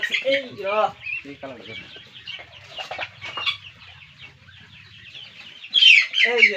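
A silkie hen's soft, repeated clucks and murmurs close by, with people talking over them and a sharper squawk near the end.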